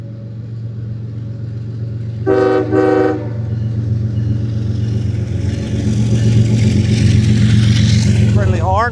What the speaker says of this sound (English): Friendly horn.